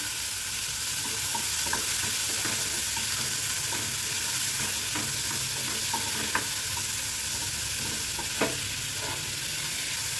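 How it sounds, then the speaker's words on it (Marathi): Tomato and beetroot frying in a pan, with a constant loud sizzle and scattered scrapes and taps of stirring, close up and with no talking. "याच्यात टोमॅटो टाकूया, बीट टाकूया आणि हे चांगलं भाजून घेऊया"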